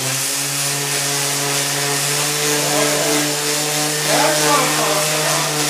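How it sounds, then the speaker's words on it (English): A random orbital sander grinds down wood filler with a steady, loud, high whine and a constant hum, running close up without a break. "Random orbital sander will work better."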